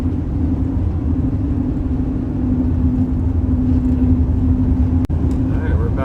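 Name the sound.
car driving on road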